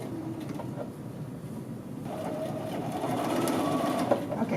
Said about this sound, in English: you are going to sew again 5/8 of an inch, literally right on top of that same stitching line